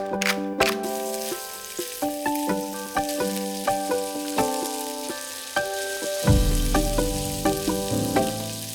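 Smoked duck meat sizzles steadily in a hot pan with a constant frying hiss, broken by clinks and taps of a utensil. Louder crackling bursts in near the end as more ingredients go in.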